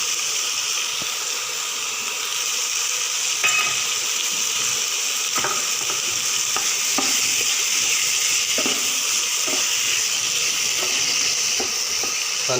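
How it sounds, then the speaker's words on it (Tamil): Macaroni masala with turmeric stir-fries in a pan, giving a steady bright sizzle up close, with scattered scrapes and clinks from a stirring spoon and no talking. "நல்லா வச்சு நல்லா கொஞ்சம் நேரம் வதக்கி விட்டுக்கிட்டே இருங்க."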